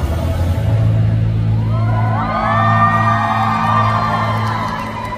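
A large concert crowd cheers, a broad roar of voices with rising whoops and shrieks that swell midway and hold, loud and close, over a low rumble.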